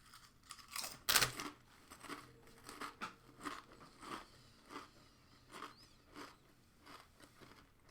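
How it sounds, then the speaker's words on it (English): Doritos chips crunched close to the mouth, a quiet, irregular run of crisp bites and chewing with no talking. "Me eating Doritos."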